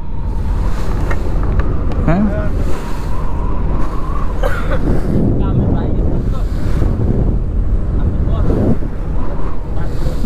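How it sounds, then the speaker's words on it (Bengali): Strong wind and rough waves on the Payra River, heard from a boat as heavy wind buffeting on the microphone over churning water and splashes, with voices talking over it. "প্রচন্ড ঢেউ"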